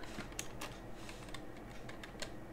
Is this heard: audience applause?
no